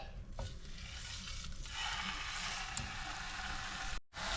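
Beef cutlets seasoned with salt and pepper frying in plenty of oil in a pan, a steady close hiss and crackle that grows denser partway through, with a brief clatter of handling near the end.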